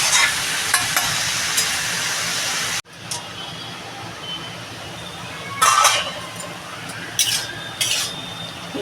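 Bottle gourd curry with salt, turmeric and green chilli is stirred in a pan, starting with a loud hiss that cuts off abruptly, then gentler sizzling broken by several scraping and clinking stirs.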